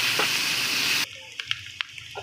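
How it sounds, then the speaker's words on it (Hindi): Onions fry in a pan for karela dal, a loud dense sizzle that cuts off abruptly midway, leaving quieter scattered clicks and knocks of stirring. "प्याज को हम इसके अंदर फ्राई करेंगे 2 से 3 मिनट लगाकर अच्छे तरीके से इसको हमने फ्राई करना है।"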